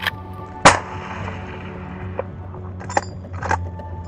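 A single sharp rifle shot cracks during a moose hunt for a bull in Canada, loud and close, followed by a low outdoor rumble and a few faint metallic clicks.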